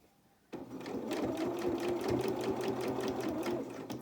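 A sewing machine starts abruptly and runs steadily for several seconds in rapid even stitching, close and clear, sewing along a channel in a small doll's twirling dress.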